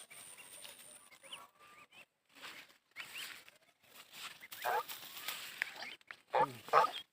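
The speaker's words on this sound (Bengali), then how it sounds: "আসলে এই হাঁসগুলো অনেক ধান খায়।" Geese feeding on ripe rice paddy in a field give scattered, faint honks and quacks, some short bursts growing a little louder toward the end over a quiet background.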